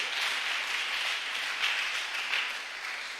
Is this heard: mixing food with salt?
no